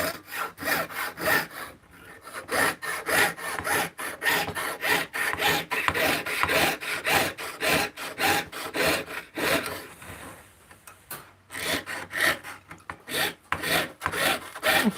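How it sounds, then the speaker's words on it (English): A jeweler's saw cuts metal at a bench pin in slow, even hand strokes, a steady rasping rhythm that continues close up for the whole stretch with no talking. "Maybe I'll start cutting really, really slow because I realized that it doesn't sound as loud."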